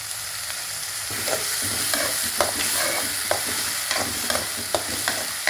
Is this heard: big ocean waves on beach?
no